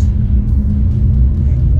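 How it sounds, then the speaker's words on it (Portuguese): A Porsche Taycan, the fully electric model with two motors, one on each axle, out on a track, gives a steady, loud low rumble of road and drive noise close by, with no talk. "E nós vamos agora levar o Porsche Taycan para a pista."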